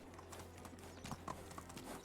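Donkey hooves clip-clop steadily in a Medieval Dynasty game world, a quick, even trotting rhythm heard close over a faint steady ambient background.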